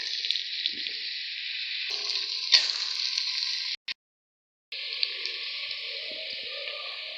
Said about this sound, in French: Je vais faire frire l'oignon et le poivron.